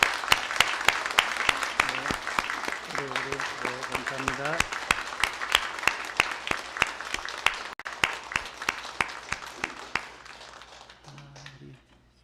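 A church congregation at a Korean Sunday worship service claps in a long round of applause, crisp hand claps tapering off toward the end, with a brief spoken thank-you over it.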